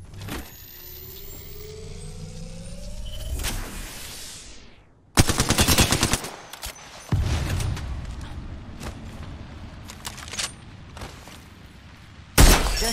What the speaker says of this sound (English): Opening fire on our prey.